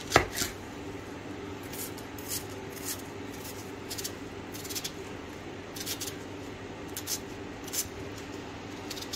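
An onion is finely chopped with a knife for green fava bean stew, giving repeated crisp close cuts in uneven bursts against a quiet room, with no talking.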